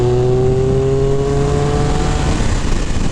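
Triumph Speed Triple RR 1200cc street motorcycle at about 5,500 rpm under hard acceleration, a loud, steady engine roar with pitch rising gradually throughout, close and continuous.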